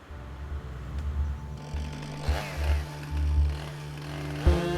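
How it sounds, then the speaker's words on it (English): Chainsaws cut huge tree trunks at a logging site in a forest, engines droning steadily and revving in surges, fairly close and loud. "Every day, the chainsaws cut huge trunks as easily as ripe bananas."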